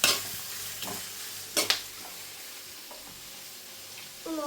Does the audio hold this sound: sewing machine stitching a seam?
no